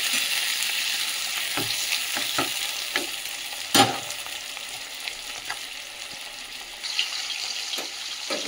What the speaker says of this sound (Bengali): রসুন আর পেঁয়াজ কুচি দিই